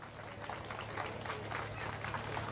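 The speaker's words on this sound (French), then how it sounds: "applaudissements s'il vous plaît" Audience clapping steadily at a classic car show in Marcon, a dense continuous patter of applause with crowd murmur beneath it, fairly even in loudness throughout.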